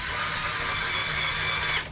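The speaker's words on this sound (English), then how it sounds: "And then I'm gonna line it up and try to drill." A power drill bores into a wooden workbench leg, a sustained high mechanical whine lasting almost two seconds before cutting off abruptly, close and fairly loud with no talk.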